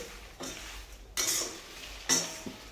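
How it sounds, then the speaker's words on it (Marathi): Curry leaves dry-roasting alone in a pan, with a few distinct bursts of metal scraping and stirring that rise and fade against a quiet background, close and moderately loud. "कढीपत्ता हा वेगळा भाजून घ्यायचा आहे"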